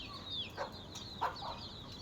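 Chickens in a farmyard cluck and squawk in short, scattered calls at moderate distance over a quiet outdoor background.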